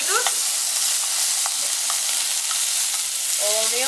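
Onions and tomato sizzling loudly in a frying pan while being stirred, a constant close hiss with a few scraping strokes of the utensil and a voice briefly heard.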